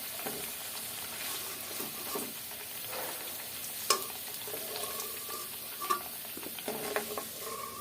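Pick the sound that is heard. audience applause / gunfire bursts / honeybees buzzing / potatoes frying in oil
potatoes frying in oil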